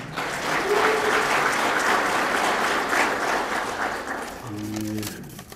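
An audience at a merchants' courtesy-training lecture gives sustained, even applause for the lecturer, a broad wash of many hands clapping that tapers slightly near the end.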